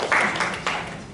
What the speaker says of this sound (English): People will spontaneously clap.